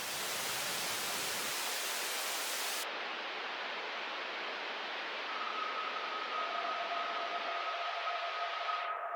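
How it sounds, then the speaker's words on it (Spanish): Filter sweeping over white noise: a full-band hiss abruptly narrows into a thinner, duller band, and later two steady whistling tones emerge from the filtered noise. "Acá vemos un filtro actuando sobre un ruido blanco."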